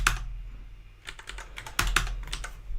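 Fingers clatter across a computer keyboard in uneven bursts of rapid keystrokes, with short pauses between clusters, close and fairly crisp with no talking.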